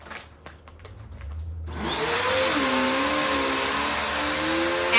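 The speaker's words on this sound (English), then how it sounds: "Now all I need is a vacuum and I'm going to suck it right up." Loud, steady whine of a vacuum cleaner drawing air out of a jumbo space saver storage bag, switching on after a few small handling clicks and running continuously with a wavering pitch; no talking.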